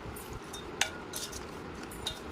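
Spoon working through mutton pickle in a bowl, giving soft scraping and a few light clinks against the dish, quiet and close with no talking.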